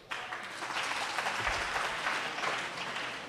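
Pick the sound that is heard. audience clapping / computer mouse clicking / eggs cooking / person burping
audience clapping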